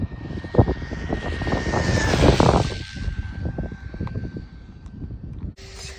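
A small RC airplane on a 4S 1,500 mAh LiPo battery flies past at full throttle, its high-pitched motor and propeller whine rising and then fading with wind noise, ending in an abrupt cut.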